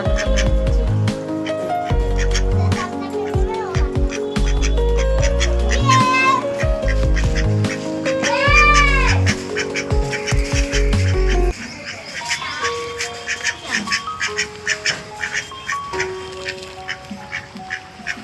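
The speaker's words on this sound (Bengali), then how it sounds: "আর এই যে আমাদের হাঁস চলে আসছে।" Domestic ducks quack loudly and repeatedly nearby in a busy, overlapping series, with other animal calls mixed in; after about eleven seconds the quacking grows quieter and sparser.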